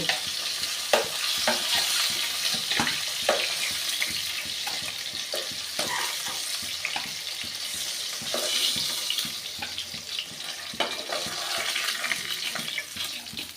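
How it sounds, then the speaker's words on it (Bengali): Rohu fish pieces fry in hot oil with a steady, close sizzle and crackle, joined by repeated scrapes and clinks of a spatula stirring the pan. "মাছগুলো ভাজা হয়ে গেছে এবার আমি তুলে নেব"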